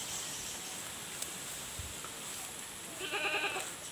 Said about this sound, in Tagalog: Kinumusta kami kaagad ng kambing.